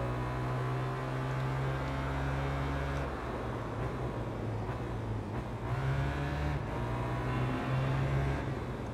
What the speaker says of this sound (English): Yes, the rattle of the exhaust. What a lovely sound.